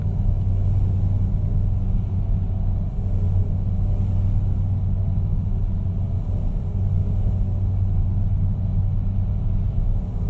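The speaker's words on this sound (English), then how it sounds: "Kind of hear the truck a little bit." A steady, heavy truck engine rumble from a truck-driving video game drones continuously at a constant low pitch, loud and close, with no speech.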